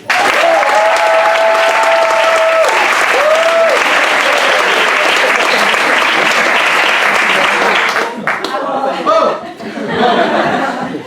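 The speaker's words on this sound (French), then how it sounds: "Je vous demande un tonnerre d'applaudissements." Loud, sustained applause from a theatre audience at the opening of a French stage show, dense clapping with scattered laughter and chuckles running for about eight seconds before thinning out into lighter, uneven claps.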